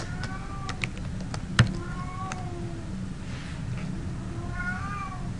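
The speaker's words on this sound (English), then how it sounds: "Sorry if you hear my cat" A house cat meows a few times in the background of an indoor room, faint, short mewing calls spread across a steady low hum, with no talking.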